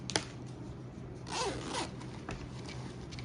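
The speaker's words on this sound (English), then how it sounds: "and close the zip." A zipper being closed on a baby girl's dress with a crinoline ruffle: a sharp tick at the start, then a smooth rising zip pull about a second long, close and fairly quiet over low room hum.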